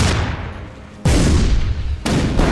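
Booming shots fired in the artillery game ShellShock Live, two heavy blasts about a second apart, each with a sharp loud onset and a rumbling decay.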